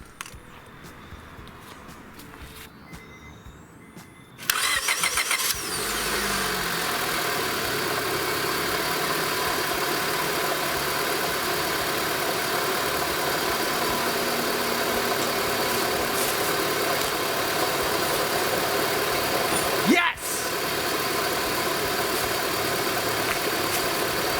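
A 2004 Honda Civic with a newly replaced starter sits quiet, then cranks and catches about four seconds in and settles into a steady, close idle that runs to the end, with one brief blip near the twenty-second mark.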